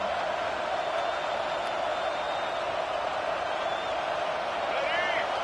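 Steady stadium crowd roar from a College Football 25 game as fans rally behind the defense, a continuous dense wash of massed voices holding at an even level throughout.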